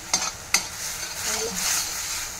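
Ground coriander, cumin, turmeric and garam masala fry in hot oil, with two sharp utensil taps followed by a gentle, steady sizzle.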